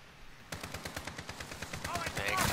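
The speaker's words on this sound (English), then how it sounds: "I don't even know who the fuck I'm shooting. I'm just shooting." Rapid automatic gunfire in the Call of Duty Modern Warfare video game, a fast steady burst of loud shots that keeps building, with other effects swelling at the end.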